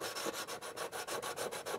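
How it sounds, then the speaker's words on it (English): A grit stone laid flat is rubbed back and forth across a model railway track frog to sand it flush, giving a steady run of soft, close scraping strokes in an even rhythm with no talking. "do a little bit of buffing, or sanding, if you will, to get it down flush."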